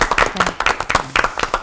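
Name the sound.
studio audience applause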